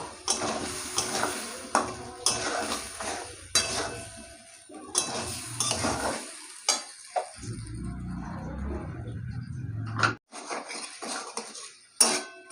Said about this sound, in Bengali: এবার দিয়ে দেবো নুন ভালো করে মশলাটাকে কষিয়ে নেব